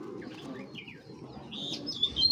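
A pair of imported racing pigeons, low soft coos rumbling nearby, with brief higher chirps breaking in toward the end.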